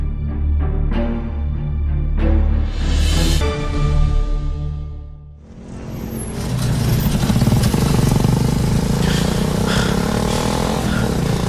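A motorcycle engine runs steadily and fairly loud, with music playing at first, and the engine drone carrying on alone after the music stops, with no one speaking.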